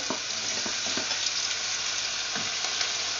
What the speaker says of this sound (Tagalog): And now we can add a tomato.